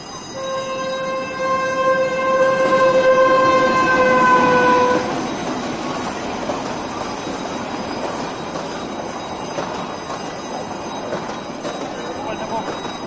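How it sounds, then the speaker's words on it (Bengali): A train sounds a long, loud horn blast, then rumbles and rattles on the tracks with faint wheel squeal as it rolls in nearby. "ট্রেন এসে গেছে। আমি তাকিয়ে আছি ট্রেনের দিকে।"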